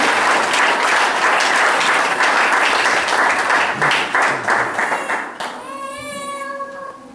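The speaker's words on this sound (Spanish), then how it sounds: "Un aplauso al Señor" A church congregation applauds at a sermon, steady clapping that fades out, followed by a sustained musical tone as the applause dies away.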